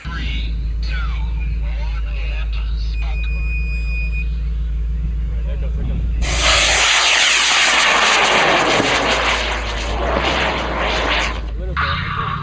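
High-power rocket with a central case 700 motor ground-started and nine H268 air-start motors: a loud broadband roar bursts in midway and holds for several seconds before fading, after a stretch of steady background rumble and crowd talk.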